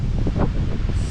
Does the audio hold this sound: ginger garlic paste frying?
no